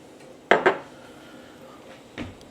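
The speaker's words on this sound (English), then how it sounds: "it's just mixing the onions around" A utensil scrapes and clinks twice against a pan as onions in butter and avocado oil are stirred, followed by a softer knock a moment later, close and otherwise quiet.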